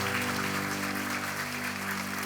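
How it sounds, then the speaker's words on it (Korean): A congregation at a healing prayer meeting claps together in a dense, steady burst of applause over sustained musical tones. "우리 하나님께 감사의 영광의 박수를 드리기를 원합니다."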